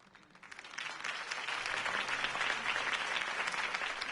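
Applause from a campaign rally crowd in the Telltale Batman video game, a dense steady wash of clapping that swells within the first second and holds loud and even throughout, with no talk over it.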